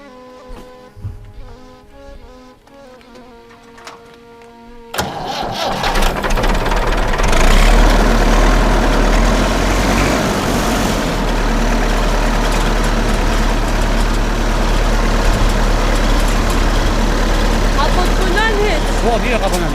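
A farm tractor engine, its owner's 500 model, turns over and catches after a quieter stretch, then settles into a loud, heavy low rumble that runs on steadily, with voices talking over it.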